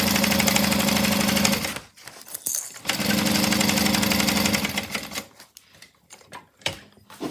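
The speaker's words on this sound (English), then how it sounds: "I'll turn, come down and sew the bottom" A sewing machine stitches the seam of a fabric Ruthie bag in two steady, rapid whirring runs separated by short pauses. The machine sounds close and loud, with a few quieter mechanical clicks and shuffles near the end.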